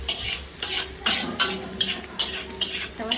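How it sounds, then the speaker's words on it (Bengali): Noodles dropped by hand into a pan with egg, potato and onion, then stirred: repeated scraping strokes over a steady sizzle, close and fairly loud, in a regular rhythm of about one stir every half second. "দেখো নুডলস গুলো কিভাবে ডালছে, দেখো হাত দিয়ে ছাড়িয়ে ছাড়িয়ে ডাললো"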